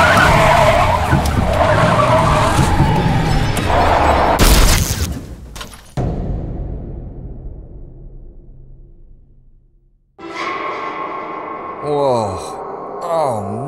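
Car skidding and crashing with an airbag deploying: a loud tire screech gives way to a sharp impact bang, then a fading hiss and quiet, followed by a ringing hum and warbling tones.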